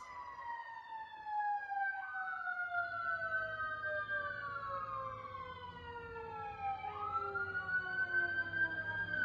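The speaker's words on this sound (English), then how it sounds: "You hear sirens in the background" Wailing sirens rise and fall in long sweeping tones, several overlapping, fairly distant and steady under a quiet background.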